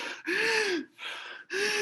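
A human voice imitates hyperventilation with three deep, prolonged, breathy gasping breaths in a steady rhythm, each separated by a short pause, close to the microphone.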